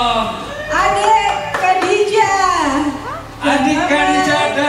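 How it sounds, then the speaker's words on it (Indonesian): Brief clapping from a hotel audience at a mother-and-child California roll sushi competition, mixed with children's voices and chatter that run over and around it throughout. "Kasih tepuk tangan dulu dong."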